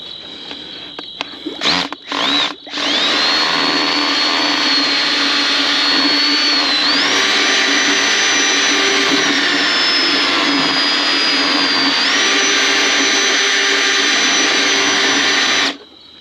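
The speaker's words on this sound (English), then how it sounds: "And I take this wonderful drill" A power drill starts after a few short bursts and runs continuously at high speed, whining loudly with small pitch shifts as it mixes.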